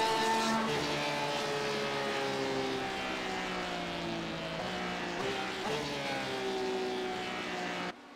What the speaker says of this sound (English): he just started to sputter as he came out of that corner